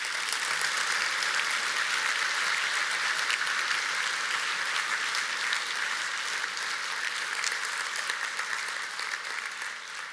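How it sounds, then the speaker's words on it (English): A large audience gives the event planners sustained applause. The clapping is dense and even and holds steady for about ten seconds before easing slightly at the end. "a round of applause, please"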